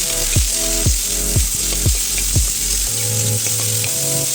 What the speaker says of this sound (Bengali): একে একে বিনস কুচি, গাজর কুচি এবং ক্যাপসিকাম কুচিগুলি তেলের মধ্যে ছেড়ে দেব